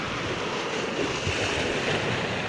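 Steady wash of surf along a beach on the coast of Basud, Camarines Norte, heard as a continuous broadband roar with wind buffeting the microphone and no voices throughout.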